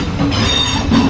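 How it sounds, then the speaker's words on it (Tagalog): Loud, close train noise at Interlaken station in Switzerland, with rumbling wheels and a squealing tone over a steady roar, no voices. "Nandito kami sa mismong tren, ang ingay ng tren."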